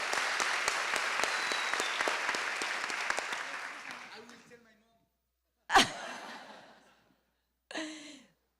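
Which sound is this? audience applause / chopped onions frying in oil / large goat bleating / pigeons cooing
audience applause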